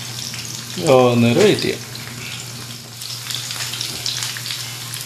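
Chicken pieces for chicken kurkure fry in a pan, giving a steady crackling sizzle. Someone speaks briefly near the start, and the frying carries on alone afterward.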